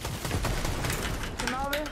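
Rapid automatic gunfire from an online shooter match, a dense, loud burst of shots running through the whole moment, with a player's voice talking over it.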